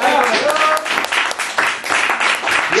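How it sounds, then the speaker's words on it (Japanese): Loud, close audience applause breaks out in a live music setting and comes in quick surging waves of clapping for about three seconds, with brief voices mixed in. "もう一度大きな拍手を"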